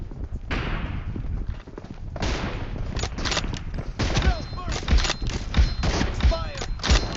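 Rapid gunfire bursts from a BGMI sniper team-deathmatch round, sharp repeated shots and reload clatter growing denser toward the end, with people talking over the action.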